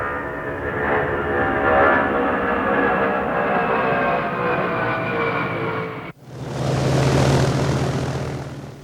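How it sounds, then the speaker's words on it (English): A huge C-5A cargo plane flies over with its jet engines whining, a loud steady roar with a tonal whine that abruptly cuts to a broad rushing roar near the end. "Listen to the whine of those engines."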